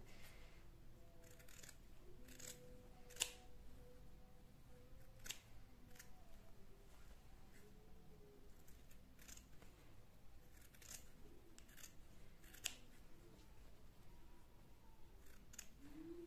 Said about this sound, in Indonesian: lalu kita rapikan dengan gunting